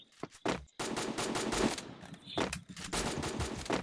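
Rapid automatic gunfire in the Garena Free Fire battle royale game, loud close bursts and rattling volleys that run almost without pause, with short gaps between shots.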